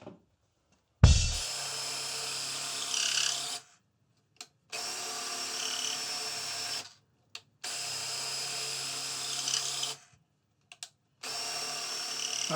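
A power drill drives screws into a wooden router lift carriage in three or four sustained whirring bursts separated by short silences, close up, with no talking.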